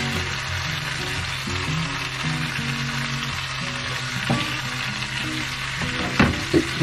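French toast fries in a pan, a soft, steady sizzle at moderate level with a few brief clinks and taps near the end, no voices.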